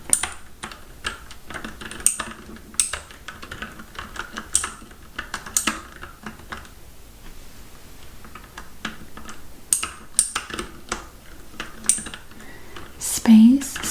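Assorted computer keyboards typed in a soft ASMR setting. Close, crisp key clicks arrive in irregular bursts with short pauses between them, and there is a brief low tone near the end.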